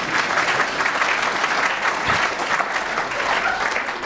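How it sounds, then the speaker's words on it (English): Audience applause at a professorship celebration, a dense, even wash of clapping from many hands, sustained and fairly loud throughout. "You may applaud."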